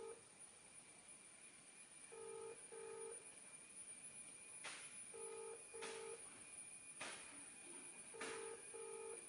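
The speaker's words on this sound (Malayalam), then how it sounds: "റിംഗ് ശബ്ദം കേൾക്കുന്നുണ്ടായിരിക്കുന്നത്" A phone call's ringback tone repeats its double burst three times at a steady pace, faint over a constant background whine and hiss, with nobody speaking.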